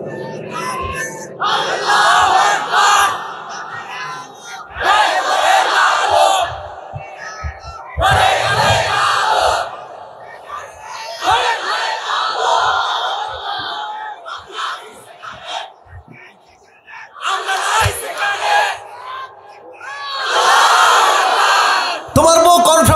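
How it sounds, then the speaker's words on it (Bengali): At a religious gathering, a large crowd roars takbir in loud, surging group shouts, several separate bursts with short pauses between them and brief speech in the gaps. "যে কোনো একজন, জোরে সোরে দাও তাকবীর।"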